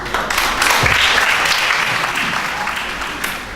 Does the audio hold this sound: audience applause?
yes